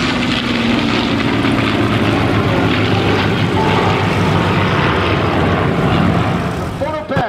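A pair of P-51 Mustang fighters with Merlin engines flying by at an airshow, a loud, continuous propeller-engine roar filling the clip while an announcer speaks over it.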